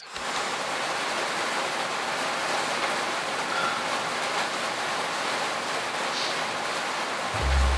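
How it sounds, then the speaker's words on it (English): A sound machine plays rain on a tin roof, a dense, even hiss that runs unbroken at moderate volume with no voices, ending in a brief low thump. "This one's like rain on a tin roof."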